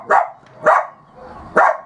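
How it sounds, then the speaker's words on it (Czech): A dog barks three times, sharp and fairly close, with short pauses between barks, in an outdoor spot in Chodcerady in spring. "Tady štěká blbej pes"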